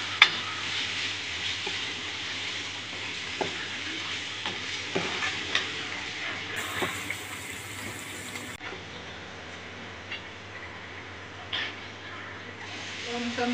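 Chopped onion sizzles steadily in a pan as biryani masala and yogurt are stirred in for chicken biryani, a constant frying hiss punctuated by scattered clicks and scrapes of a spoon.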